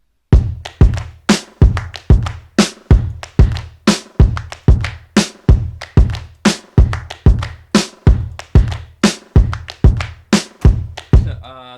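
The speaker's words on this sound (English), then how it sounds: "Together the drums sound like this." A full drum track plays a steady, evenly spaced groove of punchy kick-and-snare hits with cymbals for about twelve seconds, loud and close, with no voices over it.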